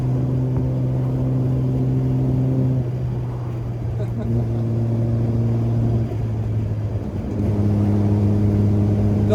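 An Austin Healey 3000 sports car drives with its engine droning in a steady low hum, pitch shifting as it changes gear and revs up again, heard close from inside the open car with people talking over it.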